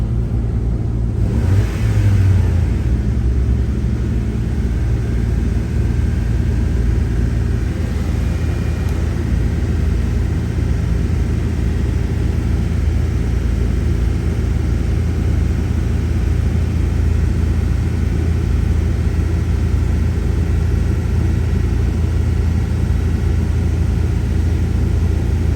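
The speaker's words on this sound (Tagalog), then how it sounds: "So we're just gonna rev it" A Honda Civic coupe engine runs at raised revs during a DIY coolant flush, a steady loud drone with low rumble held throughout, close by and without talk.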